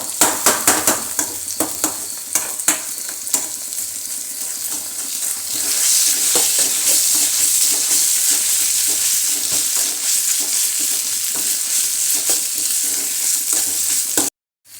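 Crushed ginger and garlic frying in onion and tomato masala in a pan, a steady close sizzle with scraping stirs that grows louder partway through and runs unbroken to a sudden stop.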